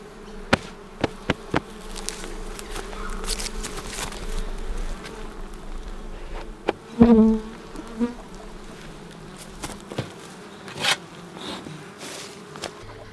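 Bees buzz steadily close by, with scattered sharp taps and rustles and one louder burst of buzzing partway through.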